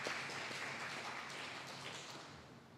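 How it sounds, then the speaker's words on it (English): An audience at a conference opening session applauds, a soft, dense patter of many hands clapping at a moderate distance, steady and then fading slightly toward the end with no one talking. "please have an applause for her"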